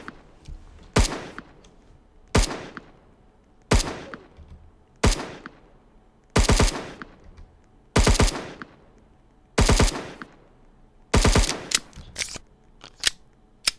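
An AI soldier in a Roblox game fires steady gunfire, sharp loud shots repeating at roughly one-second intervals with brief quiet gaps between bursts.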